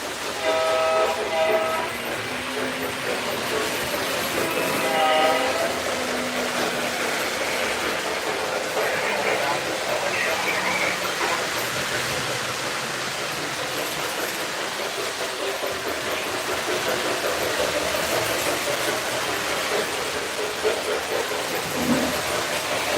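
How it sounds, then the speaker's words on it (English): Locomotive engine and horn in a railroad video game, heard as a loud, steady rumble of a train rolling along with clickety-clack. Long horn blasts sound early in the clip, and the sound carries through with no talking over it. "Roll that dang engine over here."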